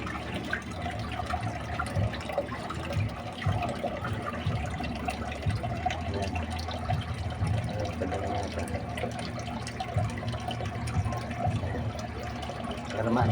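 Water poured into a crayfish container, a continuous splashing gush that runs unbroken for the whole stretch, close by and moderately loud, with faint talk underneath.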